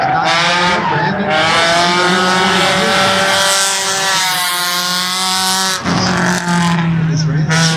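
Factory front-wheel-drive race car number 116 qualifying alone at the Indianapolis Speedrome: a loud, steady engine whine with squealing tires, the pitch shifting as the car laps, under an announcer's commentary.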